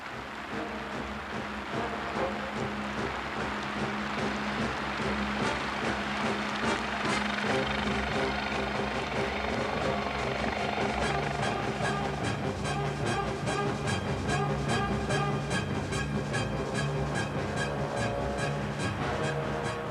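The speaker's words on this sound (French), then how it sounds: "un hélicoptère capable de faire de la voltige et de l'acrobatie" An aerobatic helicopter flying over Marignane, a steady loud rotor and turbine drone with a rhythmic chopping pulse that holds throughout, heard from close by.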